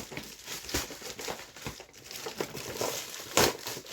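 Crinkly plastic toy packaging from Disney Cars and Planes toys is torn and crumpled up close, with irregular crackling bursts throughout and one sharp, louder rip near the end.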